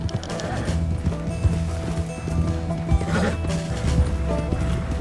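A horse in Red Dead Redemption 2 runs with a rapid, close clip-clop of hooves, and snorts and whinnies break through a busy game soundscape.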